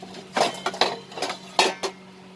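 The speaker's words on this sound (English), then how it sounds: "And now I'm going to cover this and bring it to boil." Lid set onto a pot of chana dal on the stove, a few separate metallic clinks and clatters close by, with a steady low hum underneath.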